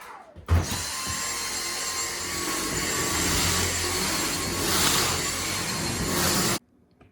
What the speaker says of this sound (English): I vacuum and vacuum everything in here really good